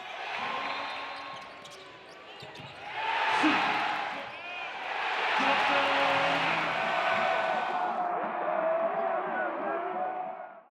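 Crowd noise at a basketball game: a broad, steady roar of many voices filling most of the stretch, swelling briefly near the start and again through the middle, with scattered shouts and thuds over the wash.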